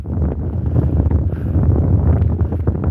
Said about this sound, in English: the southwesterly coming in, so it's a bit windy at times